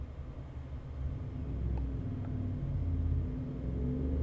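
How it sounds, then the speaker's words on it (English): Cars on a nearby main street pass by as a low, distant rumble that swells gradually and holds steady, heard indoors with no talking. "Sorry if you guys hear any like cars moving by."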